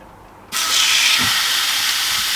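Steak hitting a red-hot Ninja air fryer, a sudden loud burst of hissing sizzle that starts abruptly and holds steady and close.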